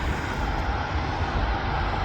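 A Qatar Airways Airbus A350 passes close by with a loud, continuous roar of jet engines that fills the brief moment alone, with no voices.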